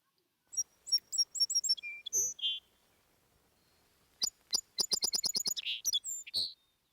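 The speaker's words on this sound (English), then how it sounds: "The mom bird just flew away, leaving her baby birds behind in the nest." A mother bird chirps near a nest of baby birds: two bursts of rapid, high, clear tweets, each a quick series of sharp notes, separated by a short quiet gap, close and distinct.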